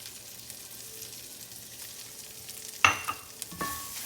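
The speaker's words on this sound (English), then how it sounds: "Now we're going to saute these and cook these down with the pancetta." Green onions and peas sauté with pancetta in a pan, a low steady sizzle that breaks into a few sharp knocks and scrapes of a utensil near the end.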